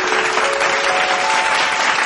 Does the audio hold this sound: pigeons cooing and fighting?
no